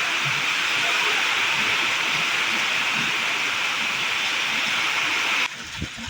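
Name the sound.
rain falling, water flowing on terrace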